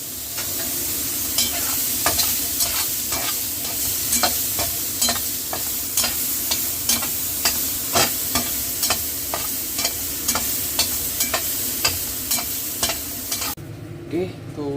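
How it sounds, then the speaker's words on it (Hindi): Salted paneer sizzles steadily in a hot pan while a utensil stirs it with a regular clacking scrape, close and alone, until the frying noise cuts out near the end. "और इसको डालते हैं पैन पर। ये भी अच्छे से फ्राई हो जाएगा।"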